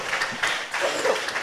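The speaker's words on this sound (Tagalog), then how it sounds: "Palakpakan natin ng malakas na palakpak ang ating mahal na Panginoon" A church congregation applauds, producing steady, dense clapping from many hands that fills the room with continuous, moderately loud patter, with a faint voice underneath.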